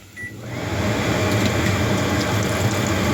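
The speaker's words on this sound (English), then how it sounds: "Bubbling, bubbling, bubbling." Hot oil crackles and sizzles steadily while deep frying chapati dough, after a quieter start, a dense, continuous fizzing with faint pops throughout, no voices.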